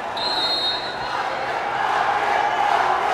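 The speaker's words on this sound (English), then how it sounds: "These drums are getting this crowd crazy." Loud volleyball stadium crowd at a professional league match, a dense continuous roar of cheering fans with drums pounding throughout, steady and undiminished for the whole stretch.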